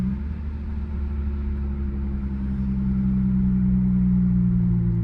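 A lowered car's engine rumbles steadily while driving on a rainy day, a deep continuous drone that swells slightly louder toward the end, with no voices.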